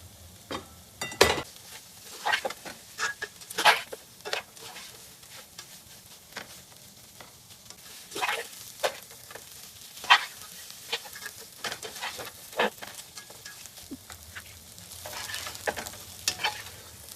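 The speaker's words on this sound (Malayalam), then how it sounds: "എന്നിട്ട് നമുക്ക് സിമ്മിൽ വെച്ചിട്ട് ഇടയ്ക്കിടയ്ക്ക് ഇളക്കി കൊടുത്ത് എടുക്കാം." Soya chunks sizzling in a pan on low heat, Kerala-style, with a soft steady fry under repeated scraping stirs and clinks of a spoon, close and moderately loud.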